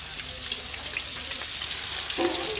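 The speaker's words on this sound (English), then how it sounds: "I'm going to take it and fry it in hot oil" Chicken deep-fries in hot oil, which sizzles and crackles steadily, a constant bubbling hiss dotted with small pops, close by and with no voices.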